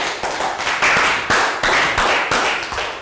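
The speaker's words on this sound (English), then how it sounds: "Round of applause." Small group of children clapping in a primary-school English classroom, a brief, busy round of uneven claps lasting a few seconds, fairly close and steady in loudness.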